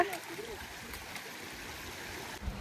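Soft, continuous babbling of a flowing forest stream on a monsoon hill trek at Palaspe Nandgaon, fairly quiet and even, with no other prominent sounds.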